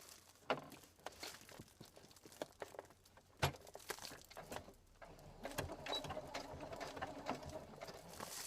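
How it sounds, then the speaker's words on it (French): A sewing machine stitches along the flap hem of a lunch bag, with irregular bursts of rattling clicks and handling noises early, settling into a steadier close mechanical whir in the later seconds, no speech. "je vais venir placer le bord ici de mon rabat à 2 mm de mon ourlet et je pique à 2 mm de mon ourlet du rabat"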